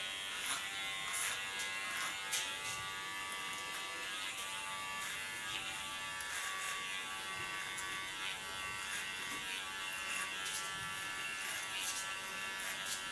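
Electric hair clipper buzzing steadily during a nape shave, guided with a flat comb: a close, continuous high-pitched motor drone with small changes in tone as it moves over the hair, no talking.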